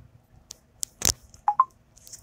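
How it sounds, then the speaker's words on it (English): A phone charger gives two short, close beeps in quick succession as it starts charging the phone, just after a brief rustle and clatter of handling. "That little sound says it's charging my phone"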